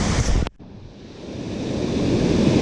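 Water roars through a river spillway during a heavy release, a loud, close, continuous rushing that follows a brief cut near the start and swells slightly toward the end, with no talking.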